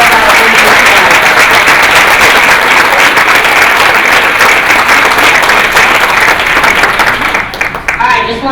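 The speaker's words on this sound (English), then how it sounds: "Let's have a rousing round of applause for all of our visitors tonight." Loud, sustained applause from a large audience at a school district retirement event, a dense wash of clapping that holds strong before thinning near the end, with voices mingling in the crowd.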